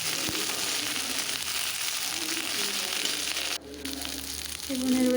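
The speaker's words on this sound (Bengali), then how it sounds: "দেখতে পাচ্ছ আমার পেঁয়াজের কালার চেঞ্জ হয়ে গেছে। আমি আবারও ভালোভাবে নেড়ে চেড়ে নিচ্ছি।" Onions fry in a pan with a steady close sizzle and occasional stirring scrapes; the hiss briefly drops, then resumes with a faint tonal hum toward the end.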